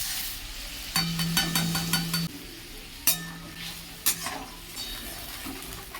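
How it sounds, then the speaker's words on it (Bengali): Ginger, garlic, onion and green chili paste frying in hot oil with bay leaf and whole garam masala, heard as a soft sizzle under quick metallic clinks and scrapes of a spoon against the pan, close by without talking. "মশলাটা কষে নেব বা ভেজে নেব"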